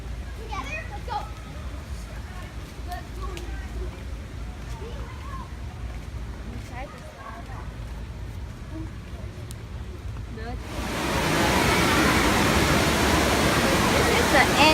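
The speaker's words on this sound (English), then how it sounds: "This is the inside water park." Water rushes at an indoor water park, with a broad steady roar that swells louder near the end, under children's voices and busy background chatter.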